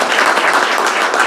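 Applause from an audience at a Korean ROTC social contribution association's annual general meeting, a dense, steady patter of many hands clapping together close by, filling the whole short moment without any voices.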